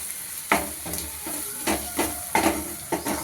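Potatoes, onions and chili powder tossed in a pan with a spoon: a steady fry hiss broken by repeated scraping stirs about every half second, close and moderately loud, with no talking.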